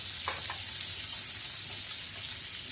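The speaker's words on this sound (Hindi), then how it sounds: "बस थोड़ा सा भून लें टमाटर, बहुत थोड़ा सा" Two medium chopped tomatoes with a pinch of turmeric fry in a pan, giving a steady, close hiss of sizzling with a couple of brief stirring scrapes near the start.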